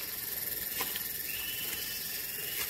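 A cicada (tonggeret) buzzes steadily in a dry-season setting at the foot of forested mountains. The shrill, continuous rasping drone is faint and distant, with no talk over it.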